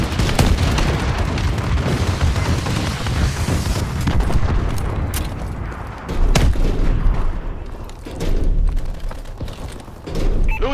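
Bombing-run explosions in Call of Duty Advanced Warfare online domination play rumble loudly and continuously, with deep booms and crackling bursts stacking over each other throughout.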